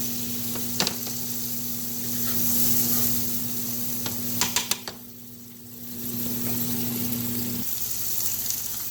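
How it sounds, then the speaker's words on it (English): Marinated food sizzles steadily in a skillet on a stove, a close, continuous hiss with a few sharp crackles and pops partway through before the sizzle settles back to an even level. "So I'm just gonna let this marinate on this nice skillet. Just a skillet on the stove,"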